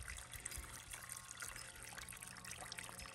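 Spring water runs through a joined pipe in a soft, continuous trickle with faint gurgles, quiet and steady throughout.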